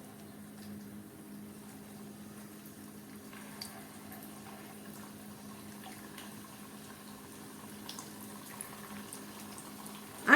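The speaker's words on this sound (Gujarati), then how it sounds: "હવે આપણે ગરમ થયેલા તેલમાં એક પછી એક ઠેખરા ઉમેરતા જઈએ" Green pigeon pea dhekra fritters fry in hot oil over a medium-low flame, giving a faint, steady bubbling sizzle that carries on quietly throughout, with no one speaking.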